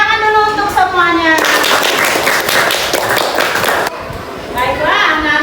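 Children in a classroom clap their hands together in a dense burst of rapid claps lasting a few seconds, close by, between stretches of an adult talking.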